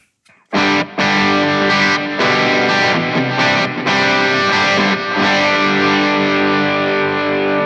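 An electric guitar runs through a Donner Arena 2000 multi-effects unit set to its SL drive distortion, playing loud, sustained distorted chords and notes with brief gaps between phrases, starting after a short silence.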